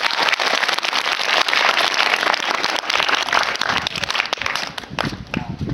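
Schoolchildren at a village primary school clapping together in a classroom: a dense, continuous patter of applause lasting several seconds, with children's voices mixed in.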